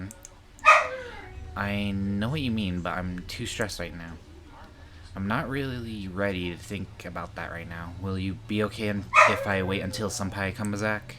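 A dog barks and yips in a few sharp bursts near the start and again near the end, with a person talking steadily throughout.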